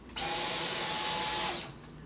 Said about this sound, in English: when I turn on the vacuum